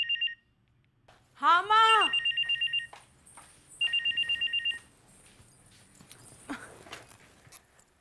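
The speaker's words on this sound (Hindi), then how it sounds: "देखो तो बेटा किसका फोन है" A telephone rings in repeated trilling bursts, loud and close, with short gaps between them. A brief spoken reply comes between the rings.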